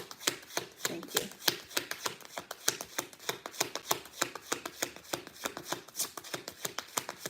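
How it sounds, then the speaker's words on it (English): Tarot cards are shuffled by hand, close up, making a steady run of quick, crisp slaps and riffles at a brisk, even rhythm for several seconds, with no voices. "any other readers feel like they gotta shuffle all the way through no matter what"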